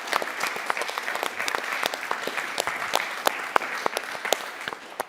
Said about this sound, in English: with a big applause for all